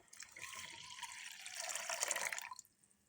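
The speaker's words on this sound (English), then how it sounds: "Now add 1 cup of milk in it." Milk pours into a pot of tea on the stove in one steady splashing stream lasting a couple of seconds, close and soft, then stops.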